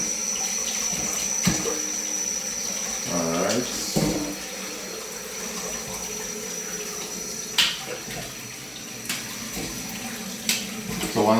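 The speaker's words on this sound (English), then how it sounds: "And just run it through some hot water." Hot water runs from a kitchen tap over frozen chicken pieces in a steady, close hiss and splash, with a few clinks and handling knocks and a brief spoken word.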